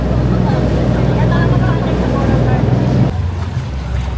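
A motorboat engine drones loudly during an island-hopping boat ride, with rushing water and wind noise over the hull; the steady roar drops in pitch near the end.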